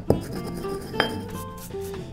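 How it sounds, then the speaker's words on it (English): Pestle knocking in a mortar while grinding peppercorns: two sharp, bright clinks about a second apart, close by, over a low steady kitchen background. "I'm gonna dust off old Morty here, the mortar and pestle, add the peppercorns"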